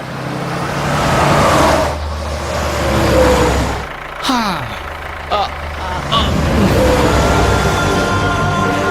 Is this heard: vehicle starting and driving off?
yes